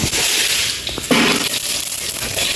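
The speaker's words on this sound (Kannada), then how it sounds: "ಸಾಸಿವೆ ಸಿಡಿದ ನಂತರ ಬೆಳ್ಳುಳ್ಳಿಯನ್ನು ಹಾಕುವ" Mustard seeds spluttering in hot oil in a pan, a dense crackling sizzle that runs steadily and close throughout, with a few sharper pops.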